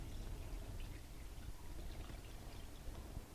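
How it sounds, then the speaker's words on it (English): Water pours steadily into a pot of homemade chicken stock, a soft continuous splashing and trickling heard up close and fairly quiet, with no voices. "we're gonna need to add a little bit more water"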